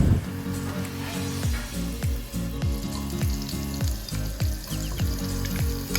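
About two tablespoons of butter sizzle steadily in a pan as the base for a beef masala, a loud, continuous frying hiss with occasional clinks and scraping close by.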